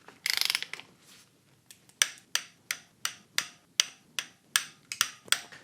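A torque wrench ratchets and then clicks over and over while camshaft bolts are tightened in a home garage during an LS cam swap: an initial rapid ratcheting burst, then about a dozen sharp, evenly spaced clicks, close and clear.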